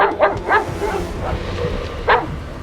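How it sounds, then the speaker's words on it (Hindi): Three dogs bark and yip on a foggy road, several short barks in quick succession, moderately close, with a low rumble in the background. "तभी कुत्ते भौंक रहे थे।"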